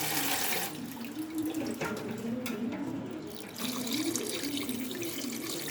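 Water pours from a tap into a bowl of raw chicken pieces being washed, a steady close splashing rush with a brief quieter stretch in the middle.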